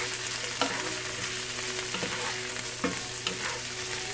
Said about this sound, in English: I'm just going to saute these for just a few moments.